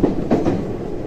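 JR West 323 series train with Mitsubishi full-SiC VVVF inverter running between Nishikujo and Sakurajima on the Osaka Loop and Yumesaki lines; steady cabin rumble of wheels and motor, fairly loud and continuous, with no talk.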